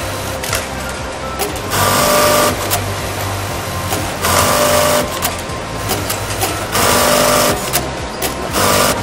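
Sewing machines run in a garment sewing workshop in Kazakhstan, whirring steadily with repeated louder bursts every couple of seconds as stitching speeds up, close and continuous.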